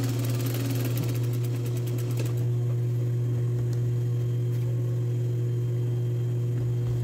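A sewing machine runs steadily, stitching a French seam on a woman's blouse with a close, loud motor hum and a rapid needle clatter, the clatter sharpest in the first two seconds.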